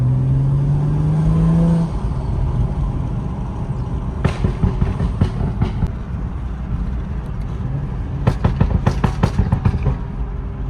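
A loud BMW F30 335i sedan engine drones steadily while driving, rising in pitch early on, then settles into a rough rumble with clicks and rattles from inside the cabin.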